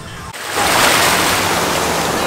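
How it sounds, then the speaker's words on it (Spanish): Steady roar of ocean surf breaking on a beach at a Nuevo Vallarta resort, a loud, continuous wash that swells in after a brief dip and holds, with some wind buffeting the microphone. "Casi me lleva el mar, Riquillo."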